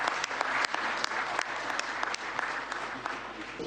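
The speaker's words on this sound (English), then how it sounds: "Can we clap hands for our brother?" Assembly audience at a CAF general assembly in Ethiopia clapping hands steadily, a loud, dense and continuous round of applause filling the hall.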